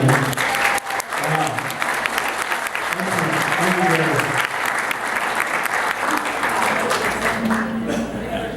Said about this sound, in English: I think a round of applause is due to Mr.